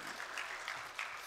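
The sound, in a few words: congregation applauding in church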